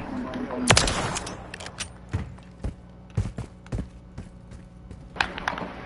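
Gunfire in the video game Modern Warfare III, sharp separate shots spaced irregularly over a low background hum, one loud crack followed by quieter reports, with voices talking over it.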